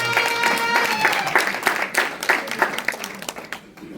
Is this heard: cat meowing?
no